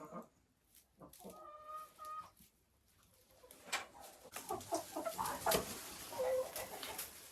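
Soft, intermittent clucks from a nearby crossbreed hen in a henhouse, a few short calls with quiet gaps, over a faint background of other birds and farmyard rustle.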